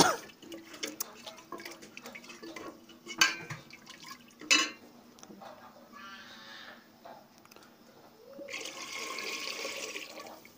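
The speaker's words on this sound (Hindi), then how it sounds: "1 लोटा पानी इसके अंदर डालेंगे हम" Water splashes and gurgles into a metal cooking pot for dal palak after a few clanks, ending in a steady rushing pour; quiet and close.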